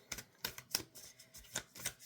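A tarot deck being shuffled by hand, a series of short crisp riffling bursts at a fairly regular pace, quiet and close with no talking.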